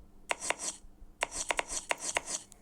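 Quick knife chops on carrots on a board in a video game, two bursts of sharp rhythmic thwacks with a short pause between, crisp and fairly close.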